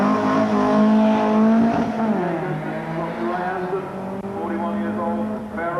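A 1990 Westfield SEI with independent suspension and a Ford Cosworth engine, built to motorsport spec and run at the Brighton Speed Trials, roars hard at speed, its loud engine note sweeping in pitch across the run.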